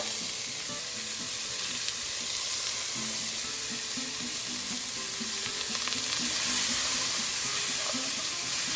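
Onion, celery, carrots and garlic sautéing in a pot, a steady, close sizzle that continues without pause and grows slightly louder near the end.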